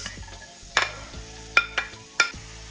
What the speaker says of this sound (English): I'm gonna start to saute the vegetables for the black eyed peas.